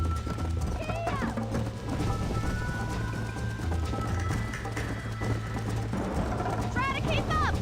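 Horse galloping in the video game Red Dead Redemption, a steady drumming of hooves with occasional whinnies, mixed with music and voices speaking throughout.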